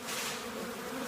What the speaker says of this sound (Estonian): Kuulete mesilased siin